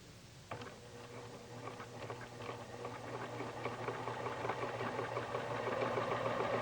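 PFAFF Expression sewing machine stitching ribbing onto a neckline: a quiet, rapid mechanical patter with a steady motor hum, starting after a brief click and growing slightly louder, alone without voices.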